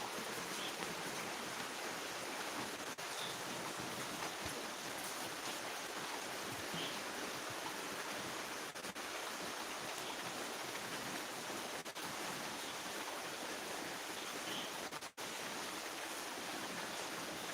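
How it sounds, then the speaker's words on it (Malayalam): Heavy evening rain pours down steadily as a dense, even roar of falling water, continuous and loud with no talk. "ഇന്ന് വൈകുന്നേരം മുതൽ ഭയങ്കര മഴയാണ് ഇവിടെ"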